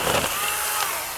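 A Vevor 20V cordless mini chainsaw cuts through a tree branch, a brief loud buzzing whine of the small electric saw biting into wood, with no voices over it.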